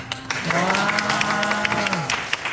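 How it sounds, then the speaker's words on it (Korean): Scattered clapping from an audience, mixed with a sustained humming or sung tone over a busy crowd background. "그래서 다시 한번 여러분 박수 한번 주세요."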